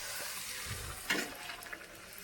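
Pani puri dough rounds frying in smoking-hot oil, a steady broadband sizzle with a brief louder crackle as a piece drops in, close and continuous with no speech.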